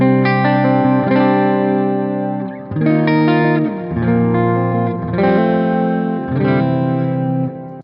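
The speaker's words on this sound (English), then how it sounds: "there's a bit of a wetter reverb." Sustained guitar chords ring out through heavy, washy reverb, each strum blooming and lingering into the next, no speech.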